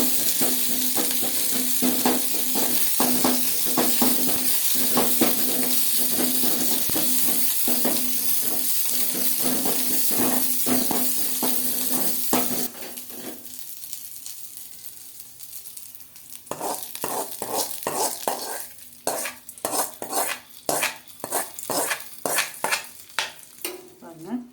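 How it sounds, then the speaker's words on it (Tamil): Eggplant bhaji (kathirikai) with a little coriander fries in a pan, a loud continuous sizzle broken by repeated scraping stirs, then a quieter stretch before rhythmic stirring and sizzling start again. "நல்லா பொரியட்டும்."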